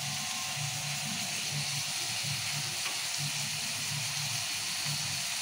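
Onions and thinly sliced chillies fry in hot oil for an okra curry, giving a steady, close sizzle with soft bubbling and occasional faint stirring, and no voices.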